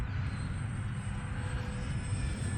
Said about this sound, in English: It's pretty amazing how big this flies as a little UMX plane.